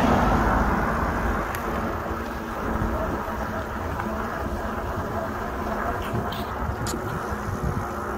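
Road traffic rushing past fast beside a bike path, heard from an electric fat bike amid steady wind noise, a broad continuous roar with faint engine swells and no clearly separate passes.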